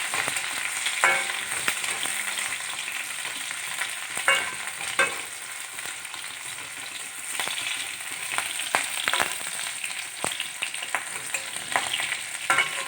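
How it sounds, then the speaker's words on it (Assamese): Onions and green chilies fry in hot oil in a pan while being stirred, a steady close sizzle with repeated scraping strokes from the spoon throughout, no voices. "পিঁয়াজ জলকীয়াখিনি ইয়াৰ কেঁচা গোন্ধটো যোৱালৈ মই ভাজিছোঁ।"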